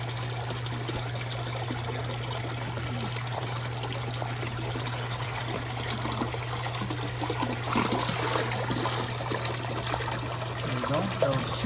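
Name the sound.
water pouring into koi pond from pump outlet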